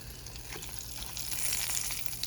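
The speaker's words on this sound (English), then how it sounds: "When you stop hearing the sizzle, we'll turn it back on." Steady oil sizzling and crackling in a pan, continuous and close, with no voices.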